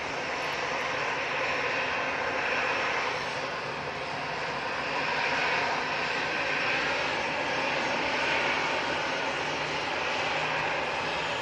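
A Ryanair Boeing 737 departs for Krakow, its jet engines producing a continuous, smooth roar that swells and eases slightly over time, heard from a distance without speech.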